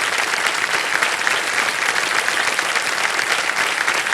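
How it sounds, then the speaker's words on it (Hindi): Sustained audience applause on the set of the quiz show Kaun Banega Crorepati, season 16, a dense steady clapping that fills the whole stretch at a fairly loud level with no talk over it. "एक बार ताली बजा दीजिए सर।"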